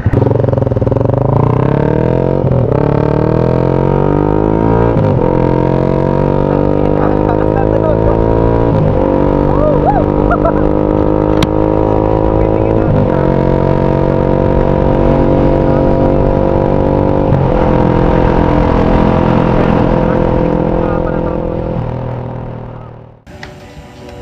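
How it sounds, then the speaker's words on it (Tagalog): A Yamaha Sniper 155 VVA motorcycle with a stock engine and aftermarket pipe, ridden and revving loudly through repeated gear changes, its exhaust note rising and dropping in steady cycles before fading at the end. "Pakalakas ng tunog ng pipe"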